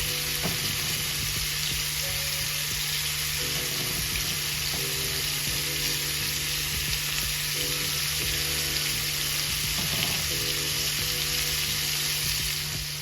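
Butter and onions sizzle steadily in a hot pan as steak is cooked, a loud, continuous frying hiss with a low hum beneath and faint clinks of stirring, no voices.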